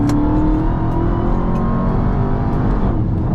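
A 2021 Dodge Charger Hellcat Redeye accelerating hard, a loud, close, sustained engine roar with rising pitch and heavy low rumble filling the whole stretch without pause.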